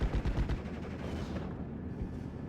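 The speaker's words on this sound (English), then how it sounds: "We got the M4A1 now hitting the Panzergrenadier squad" An M4A1 Sherman tank in a World War II strategy game fires on a Panzergrenadier squad: a dense, continuous rattle of rapid gunfire with heavy low thumps, loudest at the start and steady through the end.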